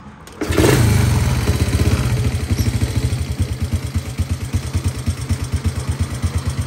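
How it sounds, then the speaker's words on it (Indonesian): A Honda EX5 motorcycle, due for a service and with a small exhaust manifold leak, starts with a sudden crank and catch. It settles into a loud, close, lumpy idle with a steady pulsing putter that carries on throughout. "jom kita dengar dulu untuk motor ni macam mana bunyi dia sebelum aku servis"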